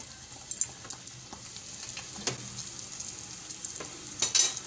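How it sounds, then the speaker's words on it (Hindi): Bread slices frying in a hot pan, a soft steady sizzle with faint scraping and a few brighter crackles near the end, no talking. "अब हम स्लाइस को तल लेते हैं।"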